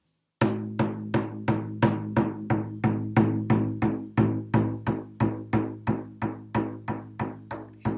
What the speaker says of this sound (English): the way that we have access is through a monotonous drum beat